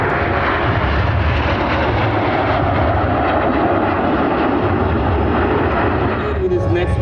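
Frecce Tricolori jet team aircraft roaring overhead during an airshow maneuver over Sacramento, a loud, sustained, broad engine wash that holds steady throughout, with an announcer's voice over it.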